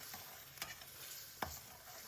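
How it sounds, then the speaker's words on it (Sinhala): Prawns stir-frying with soy sauce in a pan, a faint, continuous sizzle with a couple of soft stirring scrapes, heard alone without voices. "සෝයා සෝස් මේස හැඳි 2ක් දාගෙන මේ ටික හොඳට මික්ස් කරගමු"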